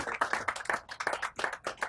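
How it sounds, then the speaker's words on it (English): Brief clapping at an award ceremony at the House of Lords welcomes a presenter to the stage, with quick, evenly spaced claps from a small group of hands, fairly close. "Let's give him a big round of applause"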